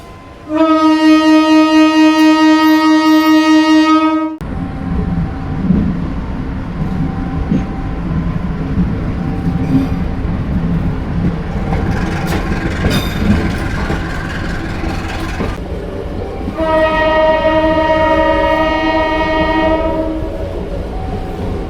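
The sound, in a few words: Putri Deli train, BB 203 double-traction locomotives, arriving at station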